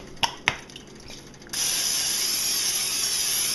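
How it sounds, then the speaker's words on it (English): Two short clicks, then a steady, loud olive oil cooking spray hisses continuously for about two seconds, close by. "spray that down with olive oil."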